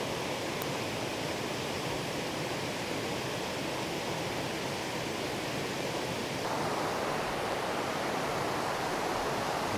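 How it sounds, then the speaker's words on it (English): Flowing water rushes continuously at a steady, even level, a dense hiss with no breaks or other sounds. "let's just experience the sound of this water together"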